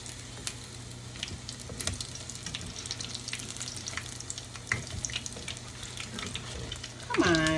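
Corn fritters frying in a pan, with a steady crackling sizzle full of fine pops that carries on throughout, close and fairly quiet, and a brief louder scrape or stir near the end.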